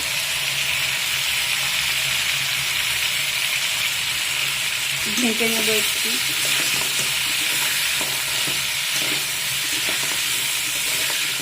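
Crab fries in a pan seasoned with turmeric and salt, giving a steady loud sizzle throughout, with brief stirring scrapes and someone speaking briefly midway.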